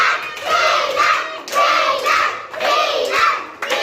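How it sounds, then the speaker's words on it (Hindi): Children clapping for the winner of a classroom game: rhythmic bursts of group clapping in roughly even waves, close and fairly loud, with children's voices mixed in. "जोरदार तालियां जीनत के लिए, जीत की कवाल पे"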